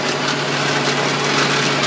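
A tractor mows a 30-odd-acre hay field during a third cutting, a loud, steady engine drone with a constant mechanical hum that holds without a break.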